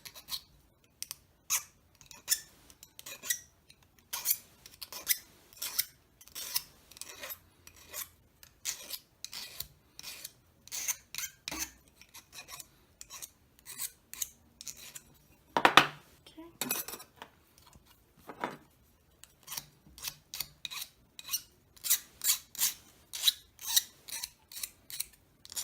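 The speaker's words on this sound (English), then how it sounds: "Right now I'm filing off the rough edges" Hand file rasping rough edges smooth, a close series of short scraping strokes in an uneven rhythm with brief pauses between them, faint and alone.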